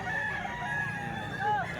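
A rooster crows once, fairly quietly, amid the background of a chicken market. The call is short and rises and falls, and faint murmur surrounds it.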